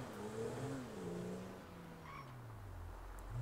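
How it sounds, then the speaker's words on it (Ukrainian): A powerful car in GTA V revs and pulls away, its engine note sliding in pitch as it accelerates, faint and somewhat distant, with no talking. "Машина така потужна, що трошки більше натиснеш газу, і вона одразу з пробуксовкою стартує."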